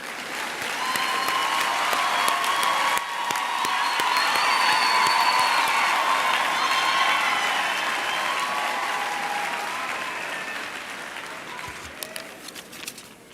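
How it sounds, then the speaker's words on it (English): Graduation ceremony audience breaks into sustained applause for a professor, a large hall full of clapping with scattered cheers and whoops that builds, holds and slowly tapers over thirteen seconds. "Can we just give another round of applause to Prof?"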